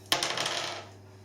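Two dice clatter in a single quick roll for a board game, a crisp strike that rattles and fades within about a second, close by over a steady low hum.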